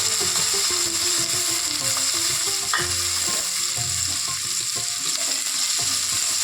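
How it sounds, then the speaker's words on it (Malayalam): Mustard seeds splutter and pop in hot coconut oil in a pan, a dense, steady sizzle with scattered sharp crackles running continuously and close by, with no talking. "അതിലേക്ക് വെളിച്ചെണ്ണ ഒഴിച്ച് കടുക് പൊട്ടിക്കാം."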